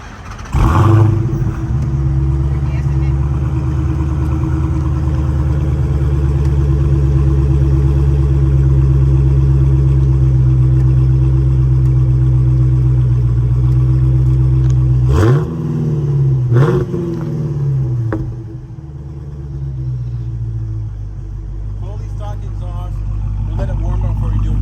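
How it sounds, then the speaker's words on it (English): A stock 2016 Dodge Challenger Hellcat V8 fires up loud and close, then idles with a heavy rumble and blips through a few sharp revs midway, and a voice is heard talking over it. "now we're ready to start it."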